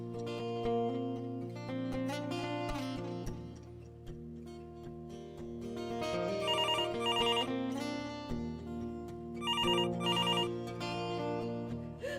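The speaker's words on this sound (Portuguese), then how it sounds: "A Sandy liga." An incoming call rings on a telephone in repeated electronic bursts separated by pauses, heard faintly over a sustained musical backdrop.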